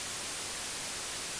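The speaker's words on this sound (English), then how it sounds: "White noise is equal energy across the whole listening spectrum of human hearing" Steady broadband white noise, a dense, even hiss of constant loudness throughout with no variation, alone and without voices.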